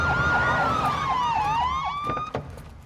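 Police car siren from Call of Duty: Modern Warfare II, wailing loudly and steadily in repeated rising and falling sweeps over a rumbling background, fading slightly near the end.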